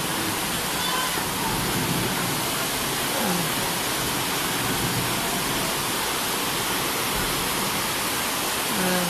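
Heavy rain and flood water during Typhoon Ondoy make a loud, unbroken roar and wash of water, with voices faintly mixed underneath.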